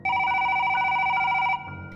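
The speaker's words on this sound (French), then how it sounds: "le téléphone n'arrête pas de sonner" A telephone bell rings steadily and loudly for about a second and a half, then stops, leaving a quieter room tone.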